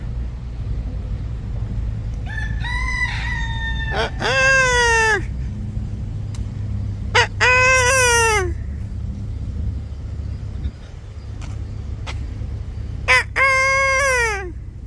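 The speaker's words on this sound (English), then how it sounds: "There's your morning rooster." A rooster crowing in the morning on Grand Cayman, several loud clear crows spaced a few seconds apart over steady low outdoor background noise.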